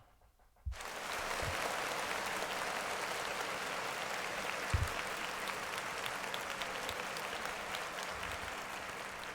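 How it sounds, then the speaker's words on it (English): An audience claps steadily for album of the year at the Grammy nominations. The applause starts abruptly and fills the rest of the stretch at an even level, dense and sustained, with a couple of brief thumps along the way. "Clap it up for album of the year."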